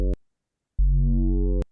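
Synthesizer run through a filter and distortion in Ableton Live, in a speed garage production: a brief buzzy harmonic note, a short silence, then a longer sustained distorted tone with added bite, all alone without talk.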